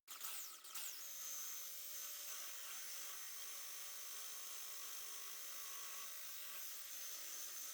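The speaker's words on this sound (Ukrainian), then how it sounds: "Беремо міксер і поки воно гаряче, будемо взбивати." An electric mixer whips a hot strawberry mousse mixture with gelatin, making a steady, high, continuous whir close by with no talking.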